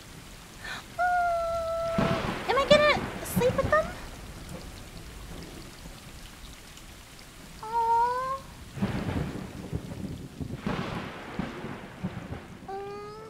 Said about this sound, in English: It's cold and rainy outside.